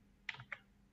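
Keys tapped on a computer keyboard while entering a search keyword, a quick cluster of three or four clicks followed by a short pause and one more click, close and fairly quiet.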